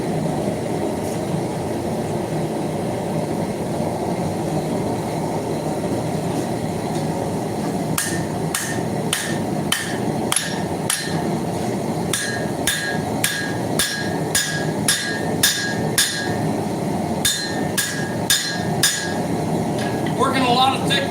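Hammer blows shape the hot blade of a railroad spike tomahawk, thick steel worked on an anvil; sharp metallic strikes ring out in steady bursts over a constant background roar.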